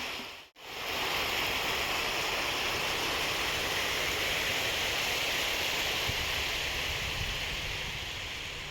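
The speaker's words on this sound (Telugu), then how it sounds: "ఇక్కడ వాటర్ ఫౌంటైన్ అయితే ఉంది పైనుంచి వాటర్ అయితే వచ్చేస్తున్నాయి సౌండ్ చూడండి వాటర్ సౌండ్ ఎంత అద్భుతంగా వినపడుతుందో" A water fountain in an amusement park garden pours down from above, a loud, steady, broad rushing roar that starts abruptly and holds constant throughout.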